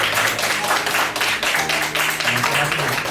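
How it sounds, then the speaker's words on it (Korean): A church congregation at a Korean church in Macau claps to send off a departing member, with a dense, continuous clapping that stays loud throughout while voices carry on faintly underneath. "우리 슌 형제 아쉽지만 우리 박수로 환송 한번 하겠습니다"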